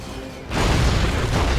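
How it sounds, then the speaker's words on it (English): Heavy explosions in Red Alert 3 as bombs from a bombing run land, starting with a sudden loud boom that turns into a sustained rumbling roar. "Good bombing run there."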